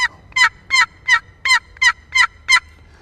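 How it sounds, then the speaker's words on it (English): A hand-held turkey call sounding a hen yelp, eight evenly spaced, loud, close-up raspy yelps in a steady cadence, with no talking over them. "And all you're doing is you're just kind of drawing this across to make a yelp,"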